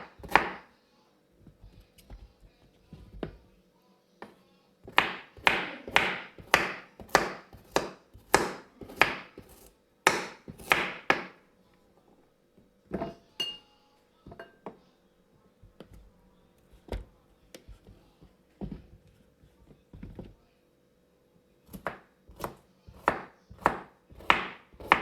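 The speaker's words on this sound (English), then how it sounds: "So guys, here I am cutting up the carrots." A knife chops carrots on a board in sharp, rapid bursts of close, crisp knocks, broken by short pauses and occasional single cuts.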